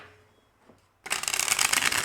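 Tarot cards being shuffled by hand: after a second of near silence, a loud, dense riffle of cards starts abruptly and runs steadily to the end.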